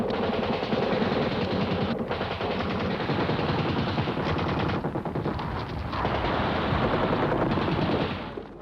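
Heavy WWII machine-gun fire as paratroopers land near the Heraklion–Canea road on Crete: dense, continuous rattling bursts, loud and close, with no pauses for nearly nine seconds.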